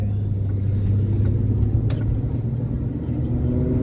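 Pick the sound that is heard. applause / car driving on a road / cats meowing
car driving on a road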